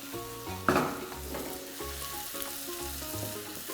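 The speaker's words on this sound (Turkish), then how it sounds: "tekrar soteleme işlemini sürdürüyorum" Onions sizzle and crackle as they sauté in a hot pan with soft stirring and a brief clatter, while faint background music plays underneath.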